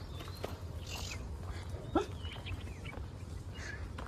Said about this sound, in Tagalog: Ayan naman yung aso. Yung aso is pupunta sa amin.